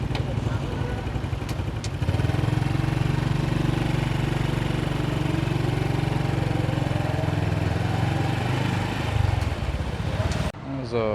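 Motor scooter engine idling on a street in Hanoi, a steady low droning hum running throughout at close range, cutting off abruptly near the end.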